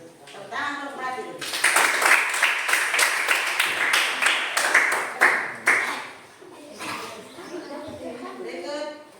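Classroom applause for the group Melati, a burst of quick hand claps from a class of children, loud and close, set between stretches of talk.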